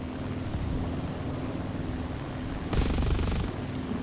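An aircraft's guns fire a rapid burst of shots lasting under a second in the War Thunder video game, cutting over a steady engine drone.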